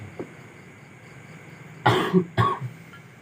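A few quick, close coughs in a short burst during an Islamic sermon after a quiet stretch, with a faint hum in the background.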